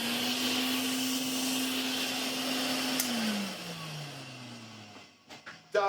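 A Hoover Constellation vacuum cleaner motor hums loudly and steadily, then winds down with a falling pitch, ending in a few close clicks and knocks.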